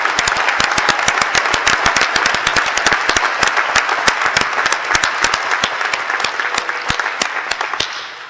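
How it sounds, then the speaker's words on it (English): Audience applause at a university winter graduate commencement ceremony: dense, sustained clapping with many sharp individual claps standing out, steady and loud throughout before ending abruptly. "please give a round of applause to all of our volunteers and staff."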